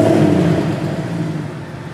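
A Mercedes CLK63 AMG coupe with the M156 V8 runs smoothly, a steady mid-pitched engine hum that slowly tapers off, with no voices over it.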